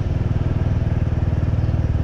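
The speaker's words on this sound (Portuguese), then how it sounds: "vou parar a moto aqui" A motorcycle engine idles loud and close on a town street with a steady, fast pulsing throb and no change in speed.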